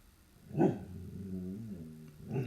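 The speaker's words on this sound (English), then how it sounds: "Sorry, those are the puppies." Puppies growl and bark close by, with a loud yelp followed by a longer, wavering growl-whine and another bark at the end.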